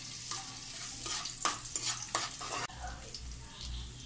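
Garlic hitting hot cooking oil in a pan, bursts of sizzling and spatula scrapes over a low hiss, with a brief pause before the frying settles into a steadier crackle.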